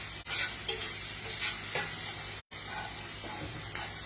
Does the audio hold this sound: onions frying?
yes